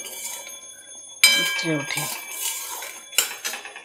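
A lid goes onto a pot of pointed gourd cooking in mustard, with a sharp metallic clank, some lighter rattling, and then a second clink, while someone talks throughout.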